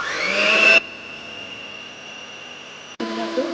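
An electric egg beater whirs loudly, then drops to a faint, steady hum while it beats powdered sugar, and comes back loud again at the end.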